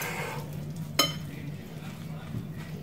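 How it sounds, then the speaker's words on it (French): Spring roll (nem) filling with egg being stirred and mixed in a bowl, soft continuous scraping and mushing with one sharp clink of a utensil against the dish partway through. "Par contre, là, il faut bien mélanger."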